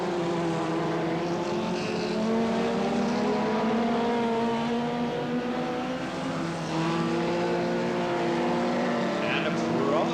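Stock cars race around an oval track at Smeatharpe, Cowdenbeath or Newton Abbot, several engines droning and revving together at a moderate distance, with pitch rising and falling as they pass, under a commentator's voice.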